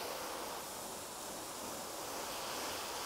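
Water sprayed from a hose onto car paint coated with Meguiar's Hybrid Coating, a steady, even hiss of spray hitting the panel, close and continuous with no talking.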